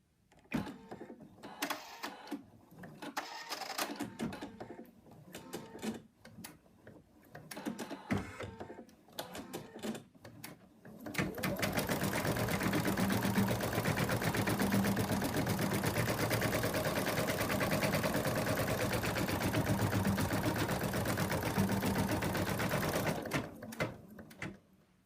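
An embroidery machine stitches an outline onto fabric: a few seconds of scattered handling knocks, then a loud, steady, continuous mechanical whirr and rapid needle chatter that runs unbroken for about twelve seconds before stopping.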